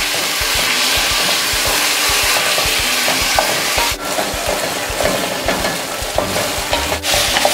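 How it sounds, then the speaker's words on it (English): Lamb pieces for rogan josh crackle and sizzle loudly as they brown in a hot pan, with steady frying hiss and occasional stirring scrapes throughout, no voices. "that's the sound you want to hear, that crackle. And we're just gonna cook it until the meat is nice and brown and caramelized"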